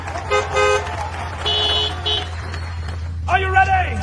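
A voice imitates a toy car horn with a few short, bright beeps in quick bursts. Other voices chatter in between.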